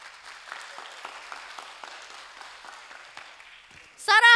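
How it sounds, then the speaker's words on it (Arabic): A live audience claps warmly for the Al-Basma troupe at a children's show, steady moderate applause that rises in a louder burst of clapping at the end. "صفقوا عليهم صفقة حارة"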